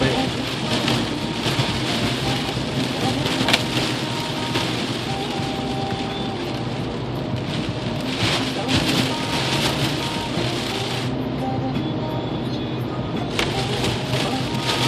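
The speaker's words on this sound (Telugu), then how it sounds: "ఇంత వర్షం వస్తా అంటే" Steady, dense heavy rain in Sunnyvale fills the whole stretch with a continuous broadband hiss, heavy and close, with no voices standing out.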